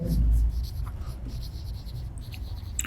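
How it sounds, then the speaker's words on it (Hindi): A teacher writes a statement on a classroom board, chalk scratching and tapping in short strokes, faint and close, with soft speech and room noise around it. "तो हम इसकी स्टेटमेंट लिखते हैं"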